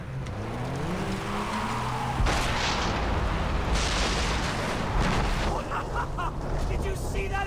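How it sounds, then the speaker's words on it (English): A loud explosion bursts in the video game Far Cry 3 amid engine roar during a chaotic drive, a sudden heavy boom followed by rumbling noise, with people talking over the action. "Did you see that explosion?"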